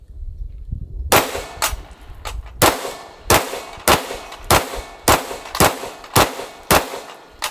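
Pistol shots from a red dot sight pistol ring out against steel Challenge Targets: about ten sharp, loud bangs, each with a bright metallic clang, at a steady rhythm, with no talking.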